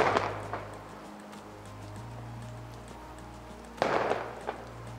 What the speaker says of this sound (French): Des pétards peut-être?